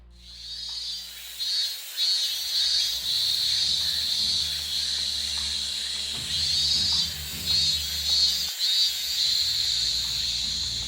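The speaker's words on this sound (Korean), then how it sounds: "한여름밤 시끄럽게 울어대는 매미 울음소리 때문에" Cicadas on a midsummer night in Korea keep up a loud, high, buzzing drone that swells and fades in pulses, with a faint low background beneath it.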